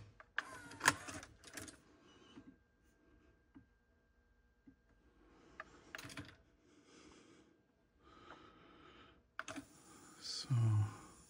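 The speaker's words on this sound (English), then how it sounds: "now let me install the normal tape and let's see what we can achieve with it now" A normal cassette tape being loaded into a Sony TC-K555ESA deck: quiet close clicks and plastic clatter, a few sharp mechanical snaps, and a louder clunk and whir near the end.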